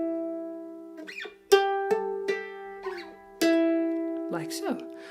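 Mandolin played alone in a tremolo-style tutorial of The Last of Us theme, with a hammered-on note, a slide and plucked notes ringing clearly in a slow phrase, with sustained tones between the picks.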